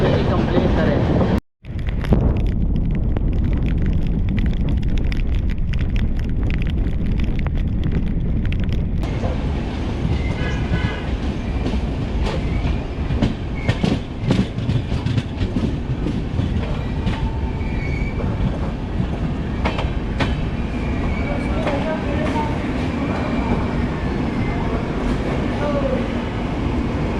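The Shipra Express passenger train rolls on its rails with a loud, continuous rumble and rattle, with wheel squeals and clickety-clack heard from inside a carriage throughout.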